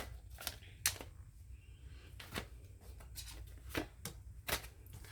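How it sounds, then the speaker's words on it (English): Oracle and tarot cards are shuffled close by, quiet papery riffles and flicks arriving in irregular bursts over faint background hiss. "As soon as I started shuffling, that card just slid out of the deck."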